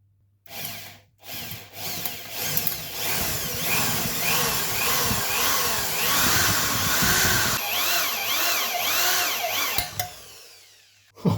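Power drill boring an oil hole into a Harley-Davidson engine case, a loud continuous whine with rising and falling pitch sweeps and grinding bite, briefly stopping near the start and end with a sharp final crack.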